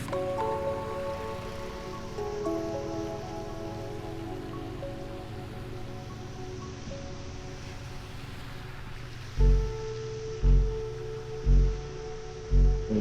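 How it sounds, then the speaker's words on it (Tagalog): A pump pushes floodwater off a flooded road, a steady rushing, pattering gush with low engine hum beneath and a few heavy rhythmic thumps near the end. "dito pinapump na yung tubig oh"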